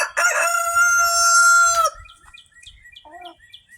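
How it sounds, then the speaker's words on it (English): A rooster lets out one long, loud crow lasting nearly two seconds, followed by a few soft chirps and clucks. "Hello, Romeo, you magnificent rooster."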